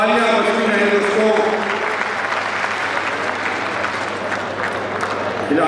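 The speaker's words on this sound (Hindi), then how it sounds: "तालियां बजती रहे दोस्तों" Sustained applause from a seated crowd at an oath ceremony for newly elected district officials, steady clapping throughout with a voice talking over it.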